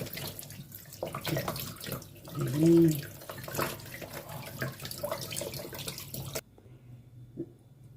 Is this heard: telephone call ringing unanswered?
no